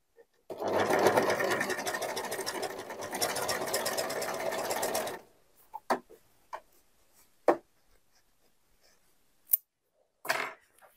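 A coverstitch sewing machine sews a decorative seam, running in a fast steady close-up whir for about four seconds, then stopping and leaving a few scattered clicks and handling taps.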